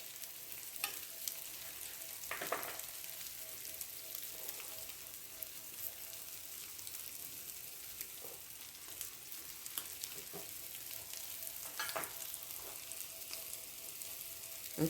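Crab cakes sizzle in butter in a frying pan, a steady close crackle with occasional louder pops and spatters throughout, and no talking.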